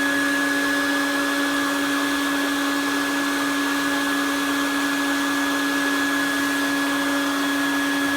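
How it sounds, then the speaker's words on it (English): A Colorado bee vacuum runs steadily with a loud, constant motor drone and high tonal whine, unbroken from start to finish. "I'm going to vacuum up my bees."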